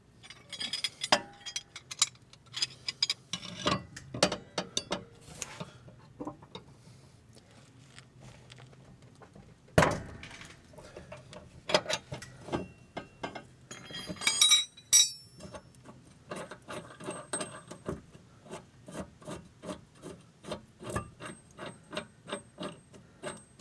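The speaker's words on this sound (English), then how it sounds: "I think we're gonna have to double wrench it." Wrench turning a tight blade bolt on a 2019 Bad Boy Maverick lawn mower, giving sharp metallic clinks and ratcheting ticks in irregular bursts, with one loud clank near the middle.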